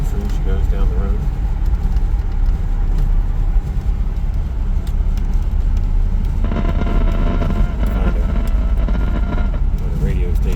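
A restored silver 1980 Chevrolet Corvette with a 3-speed and T-tops cruising down the road, its steady engine and road roar filling the cabin at close range with wind noise, while someone talks over it.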